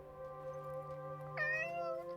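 A cat meows once in the video game Forspoken, a clear, close rising-then-falling meow over a steady musical drone, alone with no talking.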